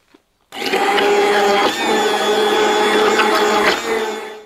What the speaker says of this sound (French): avec le mixeur plongeur, si on homogénise bien, ça devrait éviter qu'elle se sépare